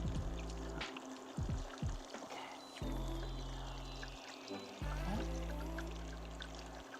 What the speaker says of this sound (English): I'm just gonna place it in the fryer with the opening side down. So as it fries,